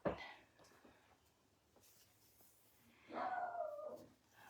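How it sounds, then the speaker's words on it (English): A dog inside a house barks at someone passing on the sidewalk, one sharp bark at the start and a longer whining, howl-like vocalization later, somewhat distant and alone in a quiet room. "There's my dog."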